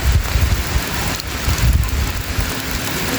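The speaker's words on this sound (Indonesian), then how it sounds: "suasana hujan semakin syahdu ya di kampung KDM" Steady, loud rain pours down on a traditional Sundanese village in Purwakarta, a dense, continuous patter with a few heavier gusts and no voices.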